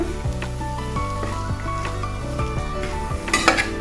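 Spoon stirring fried chickpea masala with tomato in a metal pan, repeated scraping and clinking strokes in a steady rhythm over a soft sizzle, close and moderately loud.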